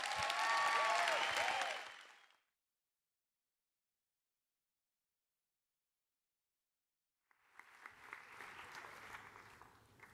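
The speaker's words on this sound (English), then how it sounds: "I want you to give him a big applause" A plenary audience at a youth conference applauds a speaker. A bright burst of sound fades into silence, then scattered clapping with crowd noise rises again after a long gap.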